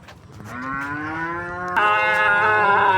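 Cattle at the Aranthangi cattle market low loudly and at length, one drawn-out moo rising in pitch and then jumping louder partway through, close by and with no talking.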